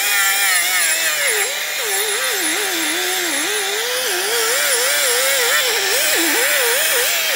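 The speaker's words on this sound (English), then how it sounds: "you could use what I call an abrasive cookie." A power tool fitted with an abrasive sanding disc cleans a 2007-2017 Jeep Compass front brake hub. It gives a loud, continuous whine whose pitch wavers up and down as the disc is pressed and eased.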